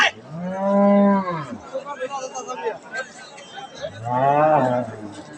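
At the Ambari rural cattle market, a large cow gives two long, loud, close moos, one at the start and one near the end, with people talking and murmuring in between.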